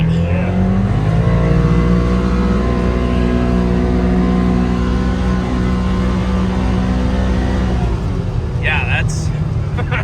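A large Ski-Doo Expedition snowmobile with a Pandemyk performance tune roars loud and close, its engine pitch climbing and settling through revs, with voices talking over it.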